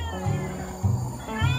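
Shelter cats yowl in low, moaning meows, three drawn-out calls within a couple of seconds, close and fairly loud.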